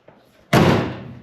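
A 1966 VW Beetle convertible door slams shut with one loud, close metallic bang that rings out briefly afterward, preceded by faint handling noises.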